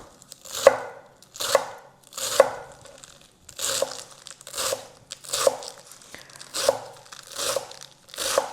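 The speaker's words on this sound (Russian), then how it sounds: "Я сейчас измельчу кинзу." A knife chops fresh cilantro with its stems on a cutting board, about a dozen crisp, evenly spaced strokes that are close and clear.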